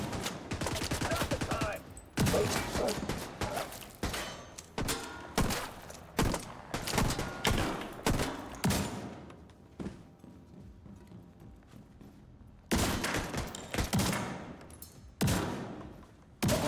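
Shotgun blasts from an online shooter game ring out in repeated bursts with short gaps between, loud and close, accompanied by other game sounds.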